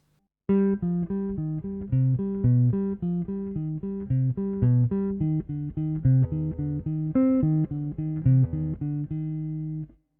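A plucked jazz guitar repeats a steady pedal note pattern in even rhythm, clear and close, with no voices throughout.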